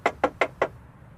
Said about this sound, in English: you wake up with someone knocking at the van.